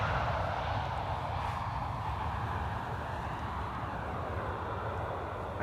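EasyJet airliner arriving at Amsterdam Schiphol from Dubrovnik, its jet engines a broad, steady roar with deep rumble, loud and continuous at close range with no voices over it.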